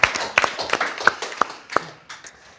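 A few people in a symposium audience clap sparsely, with a handful of distinct, close hand claps spaced irregularly that taper off quickly.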